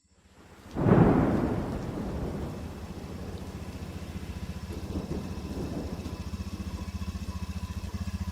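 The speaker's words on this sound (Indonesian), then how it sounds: "Duh, hujannya jadi makin deras gini mas." Heavy rain with thunder: a loud thunderclap bursts in near the start and rumbles off slowly, leaving a steady downpour hissing on and on.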